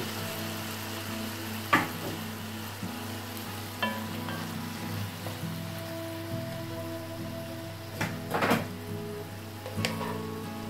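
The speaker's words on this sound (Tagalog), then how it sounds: "ilalagay na natin ang octopus. Ayan. Igigisa natin." Octopus sautés in a hot pan, giving a steady low sizzle with scattered crackles and a few sharp pops and scrapes as pieces are stirred.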